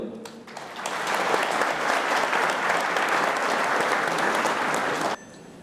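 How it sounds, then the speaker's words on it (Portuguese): An audience at a conference event in Caxias do Sul applauds in sustained, dense clapping for about five seconds before it stops abruptly. "Vamos aplaudi-la."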